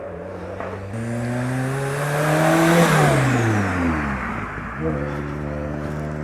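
A hillclimb car's engine revs hard nearby, pitch climbing and falling as the clutch seems to slip, then rising again; a voice speaks briefly alongside.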